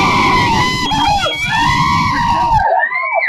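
A crowd at a Telugu Desam Party political rally in Yemmiganur shouts and screams loudly and continuously, with shrill overlapping cries and whistles carrying throughout.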